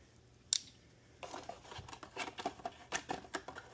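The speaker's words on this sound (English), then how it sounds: "You tell me we got some scissors up in this thing?" Small built-in scissors on a budget multi-tool, heard up close: a sharp metallic click as they open, then a quick irregular run of crisp snipping cuts for about two seconds, with no talking.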